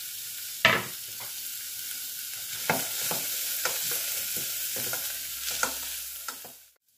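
Chopped onion sizzles steadily in a hot pan while a utensil scrapes and stirs it in a series of sharp, close clicks and scrapes, the fry hiss running continuously underneath.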